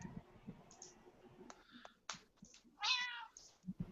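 A cat meows nearby in a quiet indoor room, a short clear call rising above faint background clicks and rustling.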